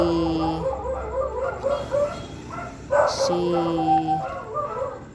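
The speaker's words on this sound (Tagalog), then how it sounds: "ayan na naman yung aso ko" A dog barks and yips in short bursts, fairly close, with other voices and background noise around it.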